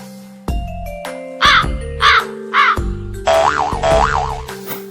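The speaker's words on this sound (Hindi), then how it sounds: "तभी कौवा जोर से काका कर चिल्लाया।" A cartoon crow in an animated moral story about a deer, crow and fox caws loudly several times in quick succession, the sound-effect caws landing over a springy boing and a steady musical backing.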